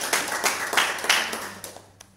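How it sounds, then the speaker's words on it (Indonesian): A church congregation clapping hands in praise at a Sunday morning service, a short burst of brisk, close applause with distinct claps that quickly thins out and fades toward the end. "kita tepuk tangan kepada Tuhan"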